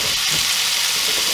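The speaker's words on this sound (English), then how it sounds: "You always want to hear it sizzle, man." Meat frying in a pan gives a loud, steady, close hiss of sizzling fat, continuous and even with no talking over it.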